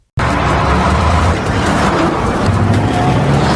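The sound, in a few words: car chase driving in a film scene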